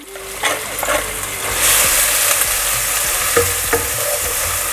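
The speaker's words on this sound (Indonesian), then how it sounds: "Harus tumis sampai harum ya." Spices sauté in a hot pan for a spicy snail coconut curry, a loud, steady frying sizzle broken by sharp scrapes and taps of a spatula against the metal.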